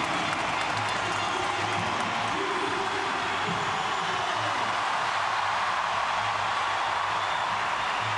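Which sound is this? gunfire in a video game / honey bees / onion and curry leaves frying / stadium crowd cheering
stadium crowd cheering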